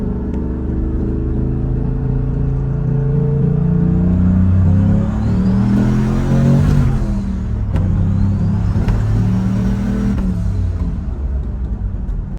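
A turbocharged car pulls hard in fourth gear, its engine note rising steadily in pitch as revs climb, dips briefly at a shift, then climbs again, loud and close with a droning rumble.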